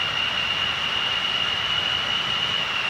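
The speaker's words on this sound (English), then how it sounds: "It sounds like a jet turbine." A turbocharged car engine in a video game, fitted with a big turbo swap, roars steadily with a high, piercing whine like a jet turbine, loud and constant without a break.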